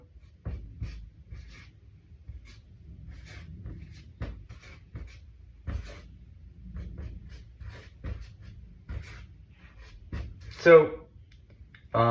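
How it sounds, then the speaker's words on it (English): A math equation is written out by hand, with scratchy, irregular pen strokes and taps under a quiet voice talking. "And what this is I'm just going to write it out right now."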